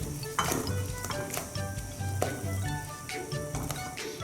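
Gnocchi dropped into a pan of melted gorgonzola, giving a soft sizzle and scattered stirring and scraping clinks against the pan, close and fairly quiet.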